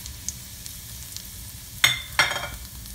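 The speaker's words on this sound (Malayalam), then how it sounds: "ഇതിലേക്ക് നമുക്ക് കുറച്ച് അവലിട്ട് വറുത്തെടുക്കണം." Flattened rice (aval) roasts in ghee in a pan, a steady soft sizzle with two sharp scraping stirs near the end, close and alone without talk.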